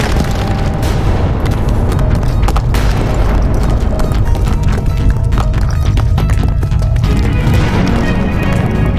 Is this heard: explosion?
yes